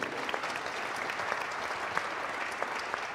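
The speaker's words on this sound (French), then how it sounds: "Je pense qu'on peut vous applaudir." An audience at a professional morning meeting applauds steadily with dense, moderately distant clapping throughout, with no voices heard.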